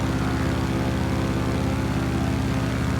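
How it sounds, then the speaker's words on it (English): Steady, loud propeller drone from a Boeing Stearman-type biplane engine in Microsoft Flight Simulator over Brazil, a continuous low throbbing hum with a constant pulsing beat, close and unbroken for the whole stretch. "That's a nice sounding engine you got there."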